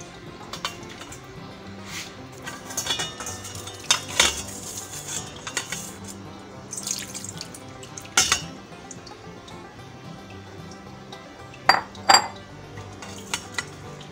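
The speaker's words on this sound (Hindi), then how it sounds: "अब इसको स्ट्रेनर में छान लेंगे।" Washed beef liver tipped into a metal strainer in a home kitchen, giving a steady background of wet shuffling with scattered sharp metallic clinks and clatters of utensils and pans, no talk.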